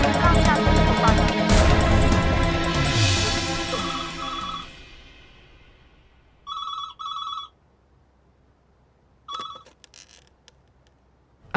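A telephone rings in short repeated bursts after a loud, fading musical swell, each ring a bright electronic trill separated by silence.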